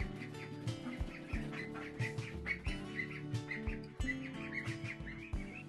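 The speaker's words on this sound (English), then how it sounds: "The ducks and some of the chickens escape every single morning to notify us that they're hungry." Ducks and chickens kept on a small homestead call at feeding time: repeated quacking and clucking bursts in an uneven rhythm, fairly close and moderately loud, with mixed chirps and no talk.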